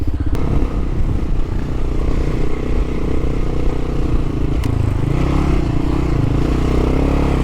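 A Kawasaki KLR650 motorcycle engine roars steadily while climbing a steep hill on a solo river-crossing ride, loud and continuous, with rattling clatter and a pitch shift around the midpoint as the bike strains.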